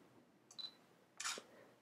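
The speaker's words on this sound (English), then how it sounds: "Press the shutter button." Two faint mechanical shutter clicks from a Fuji X-T1 camera set to its lowest shutter volume, a short tick followed about half a second later by a slightly fuller snap, in a quiet room.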